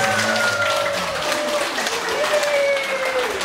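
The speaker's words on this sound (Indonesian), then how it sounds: "Beri tepuk tangan yang meriah untuk Allah." Dense applause from an audience at a mental guidance session held in a health office hall, steady and loud throughout, with faint tonal sounds and a voice briefly audible beneath the clapping.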